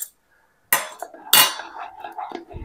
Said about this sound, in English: I'm just mixing up the foam.